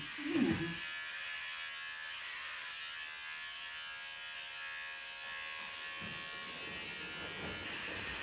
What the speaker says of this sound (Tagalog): Feels like it's cutting all the hair off.